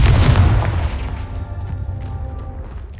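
A Confringo spell in the Hogwarts Legacy game goes off as a single loud, deep explosive boom up front, then a rumbling tail fades over the next few seconds.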